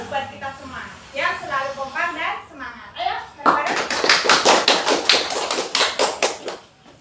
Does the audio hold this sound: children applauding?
yes